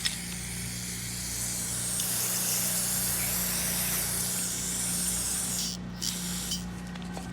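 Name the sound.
carburetor cleaner spray on a lawn mower carburetor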